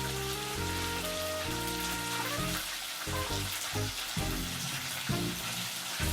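Chicken wings frying in oil, a dense, steady sizzle and crackle like heavy rain, loud and close throughout, with a tonal music bed underneath.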